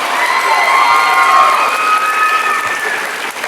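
A school awards event audience breaking into dense, loud applause mixed with cheering and children's shouts, sustained without a break.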